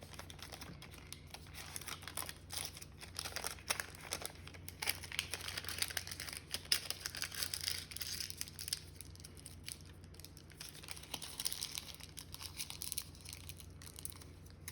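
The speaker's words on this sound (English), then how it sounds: "Now I wrap it in my wax paper." A standard stick of homemade butter from raw milk gets wrapped in wax paper, with soft, continuous crinkling and rustling of the paper close by and quiet, no voices.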